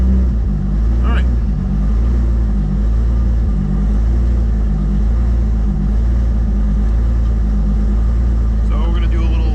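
A car fitted with a Samsonas sequential dog box idles and warms up after a tough start, a loud, steady low engine drone throughout, with no clear revving.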